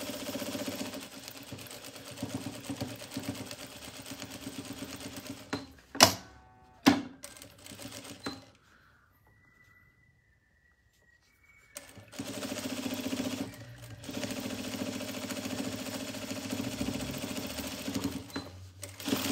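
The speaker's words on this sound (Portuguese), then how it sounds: "Agora eu já vou pra cá, pra máquina, e vou fazer esse primeiro anel" A home sewing machine stitching a ring onto a fabric toiletry bag, a steady close mechanical whir that stops with a few clunks, pauses in near silence, then resumes running continuously.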